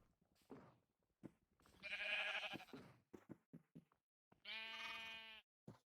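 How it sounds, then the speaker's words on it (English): Minecraft sheep bleat several times in short wavering calls, clear and close, separated by brief pauses and small clicks. "Shame I can't share the small sheeps."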